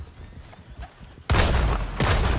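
Two gunshots in the video game Red Dead Redemption 2, a double tap of loud, sharp blasts about a second apart, each ringing out over quieter background sound.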